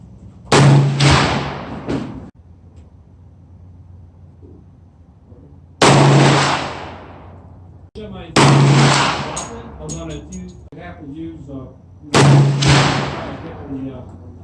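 Four loud, booming shots from a .460 S&W revolver fired outdoors at targets, each sharp blast with a long rumbling tail, spaced a few seconds apart, with a person talking between them.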